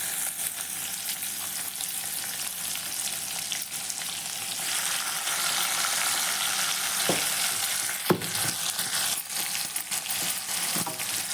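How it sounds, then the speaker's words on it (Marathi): Onion sizzles and crackles steadily as it fries in a pan at home, a loud continuous hiss with a few sharp clinks of a utensil against the pan near the end. "हा आपण फ्राय होऊ देऊया."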